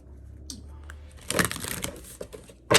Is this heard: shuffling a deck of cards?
yes